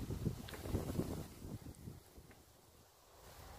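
Gusty wind buffets and rumbles over the microphone outdoors on an autumn allotment, strongest at first and then easing to a softer steady breeze.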